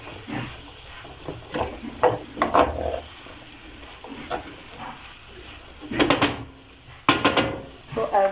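A spoon stirs minced beef stew in a pot, making scraping, clinking and soft sloshing sounds up close, with louder clatters of the pot near the end and no talk.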